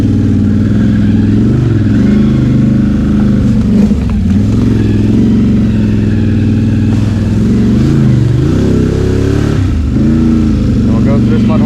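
A 2021 Honda Rubicon ATV on Outlaw2 tires churns through a mud hole, its engine droning loudly and revving up and down up close, with a voice speaking over it.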